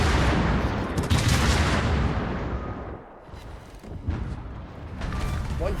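Heavy naval broadside fire from the ship Cataluña in a naval combat game booms out in dense, rolling volleys that swell, fade and return, with a player's voice talking through the barrage.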